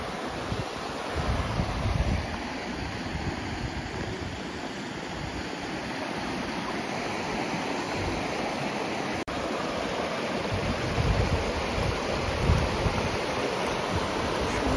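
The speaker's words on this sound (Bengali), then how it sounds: "জলের স্রোত, জল বয়ে যাচ্ছে, দারুণ লাগছে জায়গাটা।" A stream of clear, cold water rushes steadily at a scenic picnic viewpoint in the Dooars, a loud continuous wash with wind buffeting the microphone.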